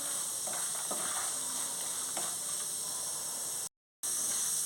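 Garlic cloves fry gently in hot oil as a tempering for a cucumber and sesame chutney, giving a steady soft sizzle with faint crackles and a brief dropout near the end.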